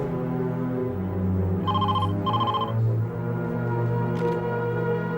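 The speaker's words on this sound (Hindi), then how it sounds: "फोन बज रहा है बेटा" A telephone rings twice in quick trilling bursts over a steady background of music, then fades as the music continues.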